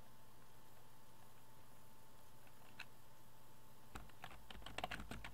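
Soft keystrokes on a computer keyboard begin after a quiet stretch, a faint few taps building into a quicker burst of typing near the end, alone with no talk.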